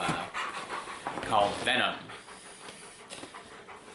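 A pet dog pants steadily nearby while someone talks over it.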